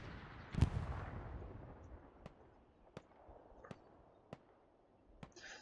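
Artillery fire in the Hell Let Loose video game during a tournament match: one heavy nearby blast, then five sharp, distant reports roughly a second apart over a low, steady battlefield rumble, with no voices.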